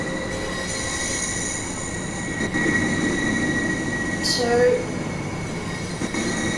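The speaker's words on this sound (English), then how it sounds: "That's the train that brought us here." A passenger train pulls out of a station on the East Coastway line in Train Sim World, a steady rumble of wheels with a brief high squeal as it moves off, and a voice speaks a single word over it.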